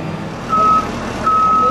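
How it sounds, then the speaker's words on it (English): A kneeling bus lowers at a stop near Colonial Williamsburg, sounding two loud, steady warning beeps over the low hum of the idling vehicle. "Kneeling bus."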